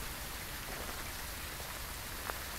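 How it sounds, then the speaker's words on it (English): Steady rain falls in the horror video game Phasmophobia at a campsite, a constant even hiss of drops on surfaces with no voices. "You're gonna light a campfire in the rain?"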